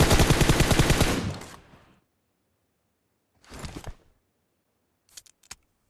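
Automatic weapon fire in the mobile battle-royale game PUBG Mobile during a fight in an apartment area: a loud, rapid burst that fades out, then a shorter distant burst and two sharp final shots, with silence between.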